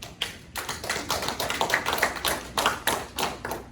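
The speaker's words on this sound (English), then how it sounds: "Give the Lord a round of applause." A church congregation claps in a round of applause for the Lord, with distinct, fairly quick overlapping hand claps at moderate loudness and no talk.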